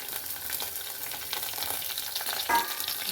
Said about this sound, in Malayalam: നല്ലോണം ഒന്ന് ഇളക്കി ചെറുതായിട്ടൊന്ന് മൊരിയിച്ചെടുക്കണം.